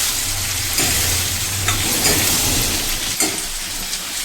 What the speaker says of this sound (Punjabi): ਪਾਵਾਂਗੇ ਅਦਰਕ ਲਸਣ ਦਾ ਪੇਸਟ ਦੋ ਚਮਚ ਮੇਰੇ ਸਾਰੇ ਮਸਾਲੇ ਨੂੰ ਫਰਾਈ ਕਰ ਲਵਾਂਗੇ